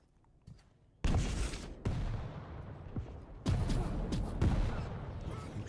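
Rockets fire and explode in a fast video game duel match, with sharp booming blasts and crackling impacts arriving in quick bursts, loud and close, one isolated shot followed by near-continuous barrages.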